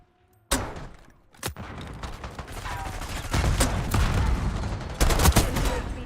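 Video game gunfire from a firefight over a high-value target: sharp shots from about half a second, then dense continuous bursts and repeated cracks through the rest, loud and close, with no voices.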